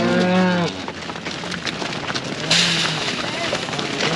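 A cow gives a loud, low moo at the start, followed by outdoor background noise and fainter lowing further off.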